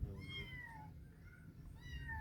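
A cat meows indoors, two drawn-out, moderately loud cries separated by a short pause, with no talking over them.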